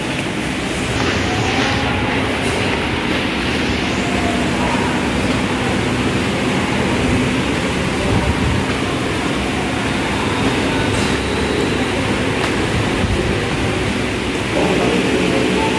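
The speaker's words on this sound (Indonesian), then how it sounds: "Ini suasana di peron 1 ya." Platform 1 at Tebet railway station in Jakarta fills with a steady, loud train rumble and broad hiss, a continuous roar with no pauses throughout.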